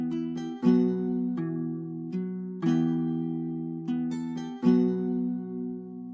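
Strummed virtual Spanish guitar played with softened velocities, three smooth gentle strums each ringing out before the next, with no voices.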